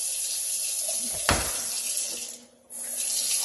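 Water from a kitchen or bathroom faucet in a house rushes steadily into a sink with a brief clunk, then dips for a moment before it runs strongly again, close and with no voices.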